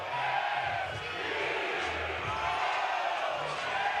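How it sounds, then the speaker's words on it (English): Oregon State baseball fans cheering in Goss Stadium at Coleman Field during an NCAA Baseball Championship game: a steady, loud crowd roar with whoops and shouts, sustained throughout. "This crowd, man, they don't let up."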